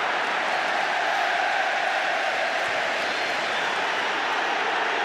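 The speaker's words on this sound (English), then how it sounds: "the Anfield crowd are trying their best. Noise level's been pretty good, pretty high" A football crowd at Anfield stadium during a Premier League match between Liverpool and Arsenal makes a steady, dense roar that holds at an even level throughout.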